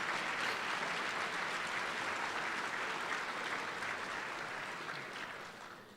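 A large conference audience at an awards breakfast applauds steadily in a dense, even wash of clapping that fades slightly toward the end.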